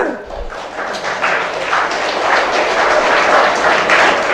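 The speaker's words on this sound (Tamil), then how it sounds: "கைத்தட்டுங்க" A crowd at a Tamil University vote-of-thanks ceremony breaks into loud, continuous applause, a dense rattle of many hands that holds steady for several seconds.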